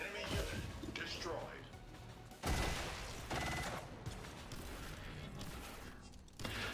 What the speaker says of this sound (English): I don't think there's a better sound from a gun in this game than the Helix cannon.